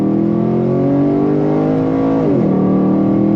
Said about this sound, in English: Love the sound of this Chevrolet SS. That LS3 naturally aspirated power sounds so sweet.